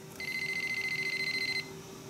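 An alarm system keypad emits a rapid run of bright, evenly pulsed beeps for about a second and a half after a button is pressed, close and clear over a steady low room hum, then stops.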